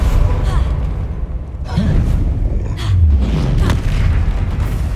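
Spell blasts from Incendio and Confringo in the Hogwarts Legacy video game, fired during a troll fight in a confined space: loud booming impacts and whooshing bursts over a dense battle din, with breathy voice sounds mixed in.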